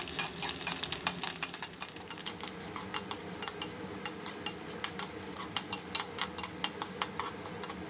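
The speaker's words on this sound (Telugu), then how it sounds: "ఒక 1/2 స్పూన్ జీరా కూడా వేసేసి కరివేపాకు కూడా వేసుకొని పోపు వేగనిద్దాము" Garlic, urad dal, mustard seeds, cumin and curry leaves fry in hot oil for a tempering, giving a steady close sizzle punctuated by regular, crisp scrapes and clicks of a spoon stirring the pan.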